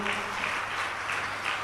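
An audience applauds steadily in a large gathering at a religious congregation in Rishikesh, a dense, even wash of clapping throughout with no pauses.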